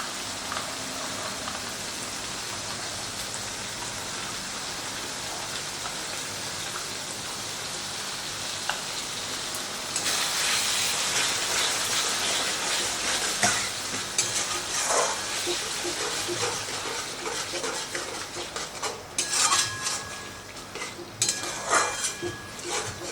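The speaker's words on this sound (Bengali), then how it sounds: "তো আবারও আমি মিনিট খানেকের মতো মশলাটাকে কষিয়ে নেব।" Spice paste cooked down until oily, with two spoons of beaten sour yogurt added, sautéed in a pan for a broccoli curry: a steady hissing sizzle that grows louder about halfway through, with scraping stirs and clattery bursts near the end. No voices.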